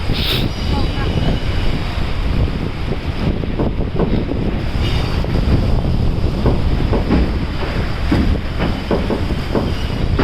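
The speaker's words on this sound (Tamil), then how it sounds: "இந்த பிரிட்ஜை நம்பி ட்ரெயின் போகுது" A train rumbles steadily across the Pamban sea bridge, with a dense low clatter throughout and wind buffeting the microphone.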